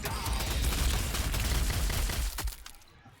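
Dense gunfire in the tabletop-style war game Warhammer 40,000: Sanctus Reach, a sustained rattling fusillade of shots with a final sharp report before it fades out.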